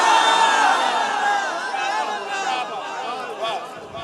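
A large crowd at a religious gathering roars back a chanted slogan in unison, loud and close, a dense wall of voices that swells and then gradually tapers off over a few seconds.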